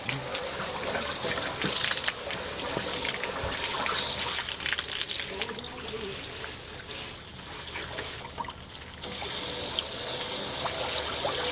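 Water gushes steadily out of a Forest River Puma RV's hot water tank as it is flushed with a wand, a loud continuous splashing rush lasting the whole stretch.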